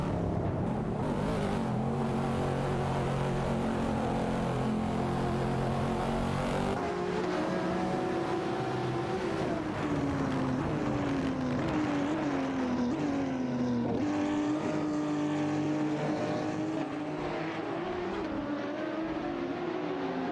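Lamborghini Aventador SV and McLaren 570S race cars battle in a racing video game, their engines droning continuously with rising and falling pitch sweeps as they accelerate and shift, loud and steady without speech.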